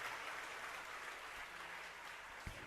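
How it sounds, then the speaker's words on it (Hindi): Steady applause from an audience at a live Jain religious discourse, a dense even patter of clapping that holds at moderate loudness for the whole stretch with no voices. "इसलिए जोरदार तालियों का अपने आवाज दे दिया"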